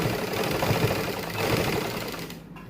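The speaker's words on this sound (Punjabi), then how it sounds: "ਆਪਾਂ ਫੁੱਲ ਦੇ ਨਾਲ ਨਾਲ ਸਲਾਈ ਲਾਵਾਂਗੇ" A sewing machine stitches lace along a flower on a plain sleeve, giving a rapid, even, close mechanical chatter that runs continuously and then stops near the end.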